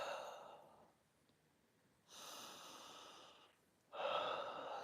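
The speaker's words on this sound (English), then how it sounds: "So I'm breathing into my stomach right now" Deep, slow breathing during a morning meditation, with an airy breath that fades into a quiet pause before two more long, soft inhales or exhales, close and alone.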